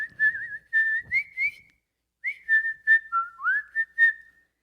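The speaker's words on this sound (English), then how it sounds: "Let me just whistle the song." A person whistles a tune up close, clear sustained notes and short phrases with a brief pause midway.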